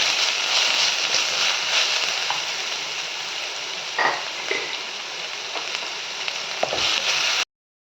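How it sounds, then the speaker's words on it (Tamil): Onions sauté in a hot pan while spicy ragi semiya is being made, a steady close-up frying hiss with a few soft clicks and stirs, ending abruptly in silence. "வெங்காயம் கொஞ்சம் வதங்கி இருப்பேன்"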